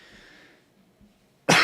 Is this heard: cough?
yes